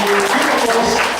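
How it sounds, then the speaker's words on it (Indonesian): Steady, loud audience applause at the close of a peacemaker session, filling the whole moment with voices faintly mixed in. "boleh tepuk tangan untuk yang di belakang kita."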